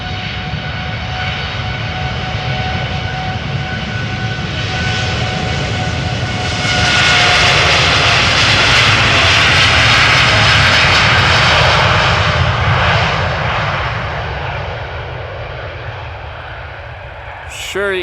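Boeing 787 jet engines roar steadily at a derated takeoff, rising to a loud sustained whine as power builds, then easing off slightly, with a constant broad rumble throughout.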